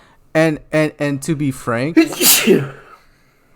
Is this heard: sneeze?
yes